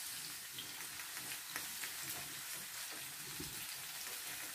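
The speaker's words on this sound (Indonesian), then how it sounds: "bawangnya saya goreng dulu nih, semua bahan-bahannya itu" Onions fry in oil for a vegetable lodeh seasoning, giving a faint, continuous crackling sizzle with scattered pops, heard close and alone.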